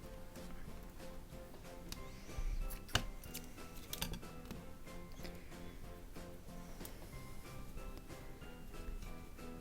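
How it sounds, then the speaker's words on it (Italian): Faint snips of scissors cutting thread, a few sharp clicks standing out over quiet background noise. "tagliamo il filo"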